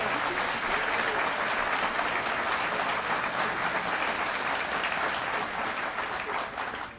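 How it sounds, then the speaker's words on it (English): Applause rolls through an audience at a Western New York state budget event, a dense, steady clapping that carries on for several seconds before starting to fade near the end. "Let us give you a round of applause"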